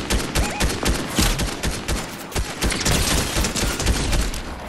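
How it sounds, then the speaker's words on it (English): Rapid gunfire in Fortnite, dense overlapping bursts of shots in quick succession, loud and close, with short gaps between volleys. "I got people shooting behind me"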